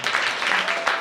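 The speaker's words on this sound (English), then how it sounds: "give him all of the applause that you can give him in the building" An audience in a comedy venue applauds for a rapper, a short, loud burst of dense clapping with a few sharper claps standing out.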